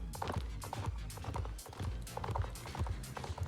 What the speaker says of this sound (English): currently I am running around with an old horse of mine